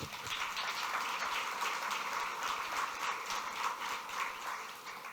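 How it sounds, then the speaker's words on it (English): An audience at a New Rochelle State of the City address breaks into applause, a faint, even wash of many hands clapping that holds steady without talk. "we can clap for that"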